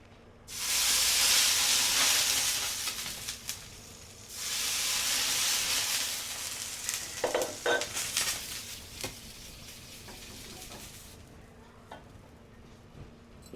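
A drop of oil wiped across a hot dosa pan with a stick raises a loud, broad hissing sizzle in two long surges, followed by softer crackles and spits that fade to quiet.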